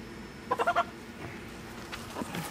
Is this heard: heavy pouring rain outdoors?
no